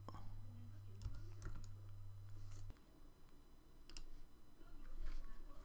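Scattered clicks of typing on a computer keyboard, a few quick key taps in loose bursts with a pause between, faint and near over a low hum.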